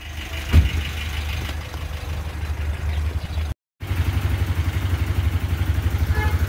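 A Yamaha Mio Sporty scooter engine idles after an oil change, a close, steady low putter with a faint rhythmic clatter, briefly cut out midway before resuming.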